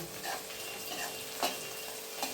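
Green chillies sauté with onions in a pan for spinach khichdi, a soft, even sizzle with faint scrapes of a spoon at intervals.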